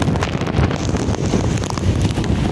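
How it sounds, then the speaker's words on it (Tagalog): Strong typhoon wind buffets the microphone steadily by the sea, a loud continuous roar and rumble with no voices. "Lakas ng hangin."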